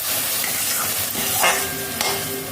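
Paneer curry masala fries in oil in a pan with a loud, continuous sizzle, and a couple of brief stirring scrapes stand out, with no talking.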